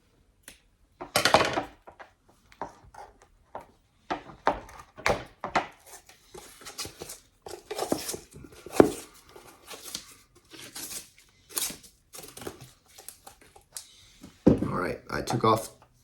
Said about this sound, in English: So I'm gonna go ahead and take off the base grip to put on the ethos grip.